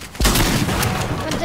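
Gunfire in a video game erupts suddenly and loudly, a dense, continuous burst of shots filling the moment with booming, crackling blasts.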